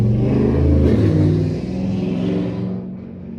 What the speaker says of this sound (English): That was a motorcycle.